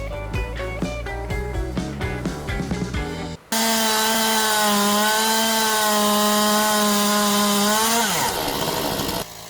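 A chainsaw sawmill cuts through logs, its engine holding a loud, steady droning whine for several seconds before winding down. Brief plucked, clattering tones come before it.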